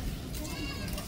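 Young goat kids bleating on a farm at feeding time, faint overlapping cries under a soft outdoor background.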